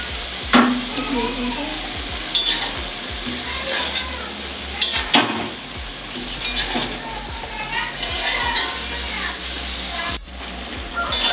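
Tangra fish and spinach frying in a pan give a steady, close sizzle with occasional stirring scrapes and utensil clinks, with no one talking.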